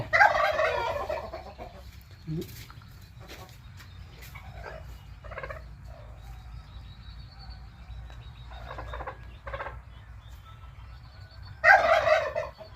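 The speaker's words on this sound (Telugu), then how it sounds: "సో ఇది టర్కీ కోడి పెట్ట అండి" A turkey hen on a farm lets out a loud gobbling call, then quieter clucks and rustles follow before a second loud gobble near the end.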